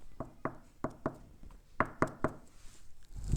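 Knuckles knock on a table in a quick, uneven series of about eight sharp, close raps, with no talking and a low thump at the very end.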